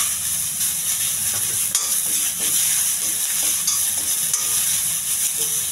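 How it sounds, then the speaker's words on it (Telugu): Chana dal and urad dal fry in hot oil with a continuous bright sizzle, broken by the scrape and clink of stirring through the pan. "ఇవన్నీ కొంచెం త్వరగా ఎగించాలి."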